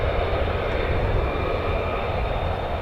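An F-35 fighter jet waits at the end of a runway at RAF Lakenheath, its engine idling with a steady, continuous broadband roar that stays close and loud throughout, with no voices over it.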